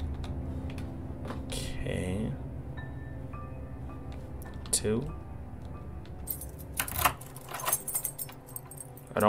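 Keys jangle and clink in a video game, a bright metallic rattle that returns in short bursts against a low droning background, with voices talking over parts of it.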